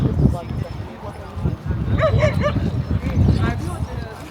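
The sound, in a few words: dogs barking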